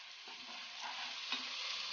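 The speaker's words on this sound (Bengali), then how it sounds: "এবারে মশলাগুলোকে সব একসাথে মিশিয়ে নিয়ে ভালো করে ভেজে নিচ্ছি" Spices with mustard paste and coriander powder being stirred and fried together in a pan, a continuous soft sizzle with faint scraping strokes of a spoon, no voices.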